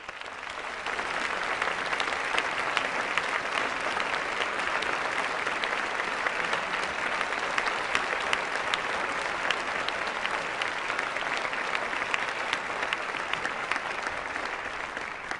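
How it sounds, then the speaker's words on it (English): A large audience at a 2006 Apple special event gives a long, dense round of applause, loud and even for about fifteen seconds after a brief quieter start. "I'd like to give everybody a round of applause"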